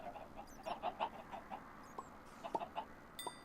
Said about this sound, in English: we're not going to be stood here waiting for absolutely ages trying to breed the chickens